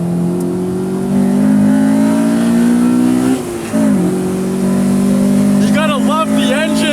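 A 1998 Acura Integra Type R engine revs hard into VTEC, a loud rising howl that briefly drops on a gear change before climbing again, with a voice speaking near the end.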